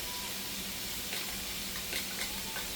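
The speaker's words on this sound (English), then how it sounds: "I can throw in my garlic with a little bit of oil" Fresh garlic sizzles in a little oil alongside browning onions, a steady close crackling fry with a few brief stirring scrapes and no talking.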